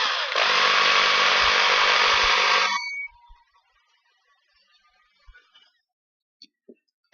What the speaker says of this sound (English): And we drill it as well